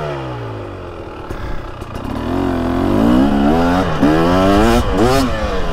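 KTM 300SX two-stroke dirt bike fitted with an FMF silencer revving on a track, engine pitch climbing and falling through several sharp throttle blips, loud and close with a crisp rising note.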